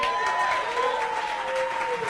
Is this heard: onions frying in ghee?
no